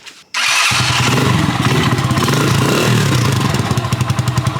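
A mini bike with a cone exhaust and an aftermarket carb starts up after a short silence and settles into a loud, close, steady rattling engine run that pulses slightly toward the end.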